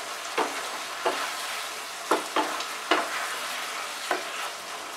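Ridge gourd and potato are stir-fried with poppy seed paste, a spoon scraping through the thick mixture in regular strokes, about one every half second to second, over a soft, close sizzle in a quiet kitchen.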